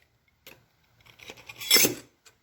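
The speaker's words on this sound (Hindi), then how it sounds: "ये सब मैं इसके अंदर डाल रहा हूँ" Metal hand files are dropped one after another into a container, giving scattered light clinks and a louder cluster of jangling metal near the end, close by with no talk.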